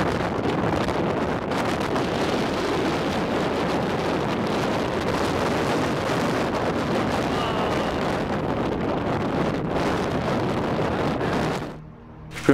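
Strong wind buffets the microphone outdoors in snowy New Zealand mountains at a ski area, a loud, continuous roar with gusty surges that drops away briefly near the end.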